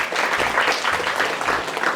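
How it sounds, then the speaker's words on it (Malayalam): Audience applause at a live comedy show: a steady, dense patter of many hands clapping together for about two seconds, with no break. "എന്നാ ഒക്കെ ഒരു കയ്യടി കൊടുക്കുക"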